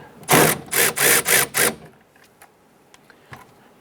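A ratchet loosens the upper right bolt on the front door of a 2005-2010 Chrysler 300 during a power window motor replacement, giving five close, loud rasping bursts in steady rhythm, then near quiet with faint clicks.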